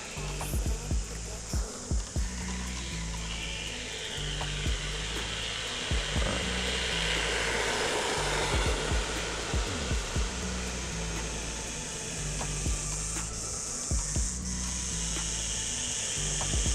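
Hosim X06 brushed 1/10 scale RC truck running at full throttle, a steady close whirring electric drivetrain whine with gear chatter and repeated clicking and rattling bursts throughout.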